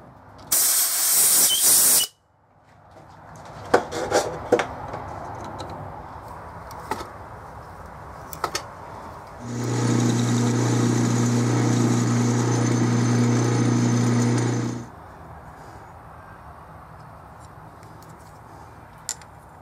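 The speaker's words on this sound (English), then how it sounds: "We're going to go ahead and drill it and tap it for 5/16-18" A loud, steady mechanical whine with a low hum runs for about five seconds as a lathe drills and taps metal for 5/16-18 thread, between quieter workshop clatter and a sharp burst of hiss at the start.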